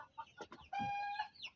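Chickens in a village coop give a few short clucks, then one longer, drawn-out squawk, close by and fairly quiet over a still background.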